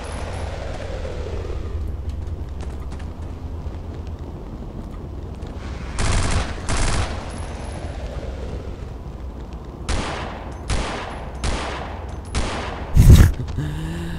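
Weapon shots in the Half-Life mod Afraid of Monsters: a few separate heavy blasts, then a quicker run of loud shots near the end, standing out over a low, steady game ambience.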